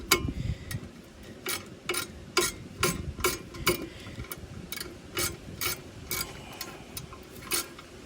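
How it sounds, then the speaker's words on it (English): A ratcheting wrench tightens the brake bolts on a 1990 Mazda Miata: crisp, close ratchet clicks arrive in quick bursts and even strokes across the whole stretch, with no speech. "so I'm going to do it with the ratcheting wrench and see how far I can get"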